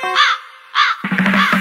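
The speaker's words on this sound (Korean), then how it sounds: "까마귀 지나가 갑자기 분위기 싸해질 필요 없잖아요" A crow gives a few loud, close caws in quick succession as it passes, with the last one longer and harsher.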